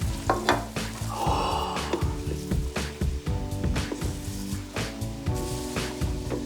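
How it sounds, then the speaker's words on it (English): Popcorn being stirred quickly into hot colored sugar in a pan, giving a continuous close scraping and sizzling with steady rustling throughout and no voices. "we stir quickly to spread the color around"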